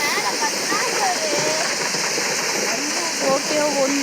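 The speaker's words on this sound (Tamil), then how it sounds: "மழை பெய்யுதுடா" Steady rain falls in a Roblox game world as a continuous, dense hiss with patter, running beneath a voice talking over it and occasional game tones.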